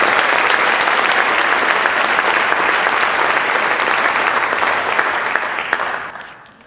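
An audience at a boys' awards event applauds the year's nominees with loud, dense clapping that holds steady and then tapers off over the last second.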